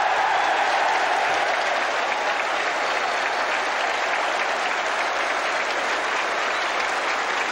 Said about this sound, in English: And the crowd rise to Turner.